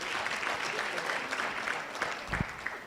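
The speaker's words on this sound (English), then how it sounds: "Can we clap hands for him?" Audience clapping at a breakfast event in Polokwane, Limpopo, welcoming Miss South Africa 2022; steady, fairly faint applause, somewhat distant, with a soft thump partway through.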